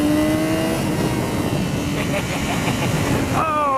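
Yamaha XJ6 Diversion motorcycle engine revving steadily and accelerating close by on a test ride, a continuous throaty drone with rising tones near the end.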